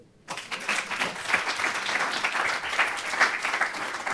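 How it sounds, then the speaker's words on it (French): Audience applause breaks out abruptly after a brief silence at a French science talk on odour perception, energetic close clapping that stays lively throughout. "on va vous applaudir."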